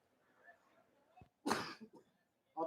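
A man, apparently a wrestling watch-along commentator, lets out a sharp, close cough burst after quiet murmuring and a brief throat noise, followed by a couple of smaller rasping coughs and another harsh cough at the end.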